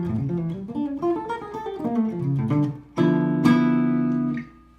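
A guitar runs through a fast single-note lick, then rings out a sustained chord strum that fades near the end, played alone and close with no talking.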